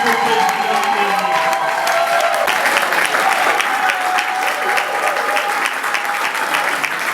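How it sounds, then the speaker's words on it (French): A congress audience applauds a newly elected president, loud sustained clapping from a large crowd that continues steadily throughout without a break. "Nous pouvons nous lever en acclamant le président élu, le nouveau président élu."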